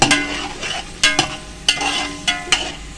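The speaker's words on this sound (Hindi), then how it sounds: "अच्छा से भून लेंगे।" Diced potatoes being stir-fried in hot oil for a vegetable pulao, a steady sizzle broken by several sharp, close scrapes and clatters of a spoon against the pan, with no talking.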